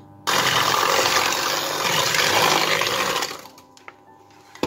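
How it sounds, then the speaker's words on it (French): Sugar whisked into mascarpone in a bowl for a mascarpone cream cake, a loud steady whirring churn lasting about three seconds before stopping, followed by faint clinks. "Je vais commencer à mélanger"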